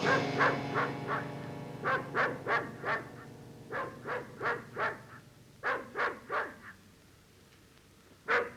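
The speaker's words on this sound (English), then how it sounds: "Stop barking!" Dogs bark in short repeated bursts, several in quick runs with brief pauses between, fairly close and clear.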